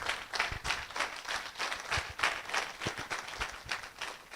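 Scattered clapping from an audience at a symposium on the future of forests, fairly faint and uneven, with claps rising and falling in soft bursts.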